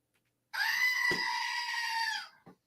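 A single goat gives a clear, close, nasal bleat lasting over a second, followed by a short thump and then quiet.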